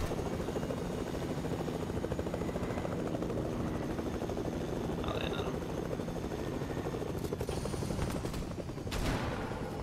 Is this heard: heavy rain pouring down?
no